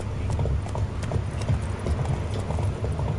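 Roach the horse gallops in the video game The Witcher 3, hooves clip-clopping in a fast, continuous rhythm that sits close and fairly loud over a rumbling ground bed for the whole stretch.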